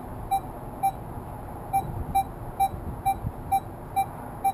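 A Minelab Equinox metal detector sounding over a Mexican 1 peso gold coin, giving about ten short, evenly repeated beeps, clear and close, with no speech.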